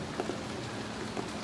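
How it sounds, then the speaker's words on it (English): Steady rain falls on a backyard in Oklahoma City during flooding, a soft, even hiss of drops with a few slightly louder patters and no voices. "it's still raining and it's still flooding in Oklahoma City"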